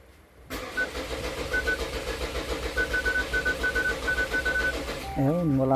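A 2014 Hyundai Santa Fe engine cranks but fails to start, with a steady rhythmic starter churn lasting several seconds, close and loud, followed by a brief rising electronic tone near the end.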